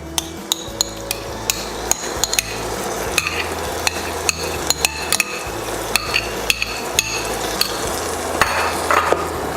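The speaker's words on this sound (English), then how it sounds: "Okay, stir that around." Pumpkin and golden-browned onions are stirred in a pot, with a spoon knocking the rim in repeated sharp clacks over a steady sizzle. The sound is close and loud, and there is no speech.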